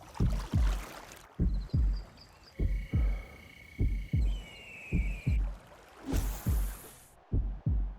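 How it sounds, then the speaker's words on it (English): Heartbeat sound effect of steady double thumps, loud and close, repeating in an even rhythm about once a second while tones and a whoosh drift in between. "They say the perfect resting heartbeat is 60 beats per minute."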